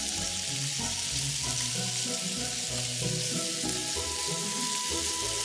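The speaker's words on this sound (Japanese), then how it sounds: "焦げないように酒を少し入れて蒸し焼き。" Pumpkin steam-frying with a splash of sake in a frying pan, a steady close sizzle and hiss running continuously, with soft clinks and tonal kitchen noises underneath.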